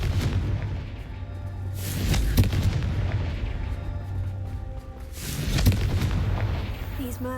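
A Confringo explosion spell in Hogwarts Legacy goes off with heavy booming blasts, one early and another near the end, over a steady low game rumble, loud and close.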